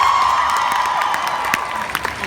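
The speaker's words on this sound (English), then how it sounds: "Round of applause for Vision." A convention crowd at a Wizard World fan panel in Philadelphia cheers and applauds, a dense, continuous wash of clapping and shouts with a few whoops rising above it.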